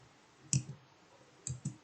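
A few crisp computer keyboard keystrokes tap out in a quiet room, one isolated press followed by a short quick cluster near the end.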